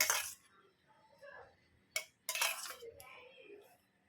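A spoon scoops homemade sour curd onto chicken for marinating, making a few soft, close clinks and taps against a bowl, with a sharper knock near the middle and quiet gaps between the sounds.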